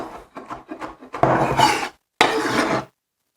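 A knife dices vegetables into small cubes on a cutting board for a broad bean salad, with a quick run of light chops followed by longer scraping, rubbing strokes, close and clear.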